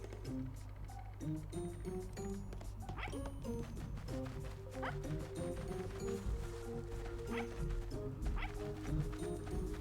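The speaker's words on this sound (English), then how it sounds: "For a second I heard a puppy coming up the stairs and I was like, why is there a doggy around?" A puppy gives a string of short, high yips and barks at middle distance. The barks are scattered and irregular over a steady background of game music.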